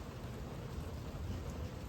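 A thunderstorm during a tornado-risk day brings dense, steady rain on surfaces and a low, continuous thunder rumble, heard close and without talk.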